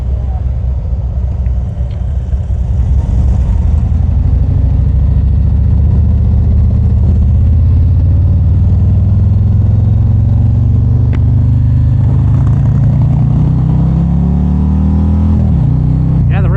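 A 2024 Harley-Davidson Street Glide motorcycle rumbles steadily in the rain, its engine climbing in pitch as it revs and accelerates near the microphone, with a voice talking over the motor.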